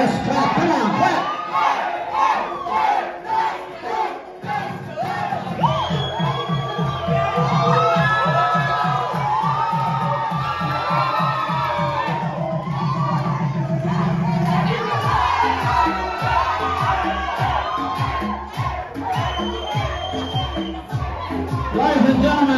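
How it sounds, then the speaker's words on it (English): Wedding reception crowd cheering and whooping as the bride and groom are welcomed, with loud shouts and a thumping music beat running underneath, sustained throughout. "Let's clap, come on, clap."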